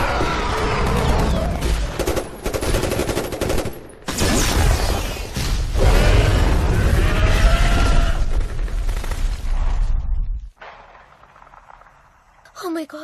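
Bursts of heavy gunfire from soldiers shooting at raptors in a Jurassic World attack scene, loud dense volleys with brief gaps, mixed with shouting voices and film action sounds before dropping quieter near the end.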